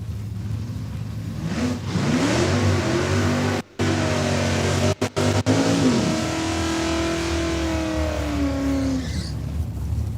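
A Pontiac Trans Am drag racing car accelerates hard down the track, its loud engine climbing through rising gear pulls with brief dropouts, then fading as it pulls away.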